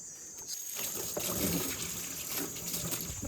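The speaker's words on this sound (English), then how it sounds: "Okay, so you filled it up with water." Water gushing steadily into the tub of a washing machine in a house in Khanom, Thailand, a continuous close splashing fill with a faint high tone running through it.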